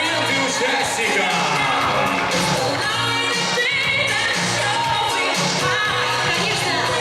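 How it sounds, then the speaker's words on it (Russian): Audience at a Miss and Mister university beauty pageant applauds and cheers loudly for the contestants, a dense, sustained wall of clapping, whoops and shouts with music underneath, steady for several seconds. "Громче аплодисменты участникам!"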